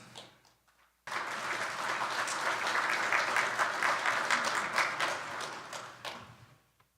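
An audience in a university lecture hall at Purdue breaks into applause to welcome a speaker, with steady, dense clapping that starts abruptly after a short quiet, holds for several seconds, then fades out.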